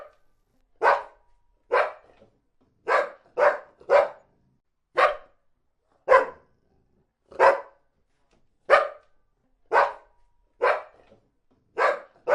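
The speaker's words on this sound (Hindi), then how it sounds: "कुत्ता भी उसके पीछे दौड़ा और उसे बाजार से बाहर निकालकर ही वापस लौटा" A dog barks in a market setting, about a dozen sharp single barks spaced roughly a second apart against near silence, loud and close with no other voices.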